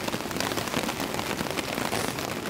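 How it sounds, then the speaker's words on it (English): Heavy rain falls on a tent camp during a storm, a dense, loud, continuous patter and hiss of drops on the tarp and surfaces nearby, with no talking. "There's quite a bit of rain coming down and I'm getting quite wet."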